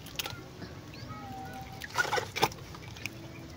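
Chickens cluck in short bursts close by, a few soft calls against a quiet outdoor background.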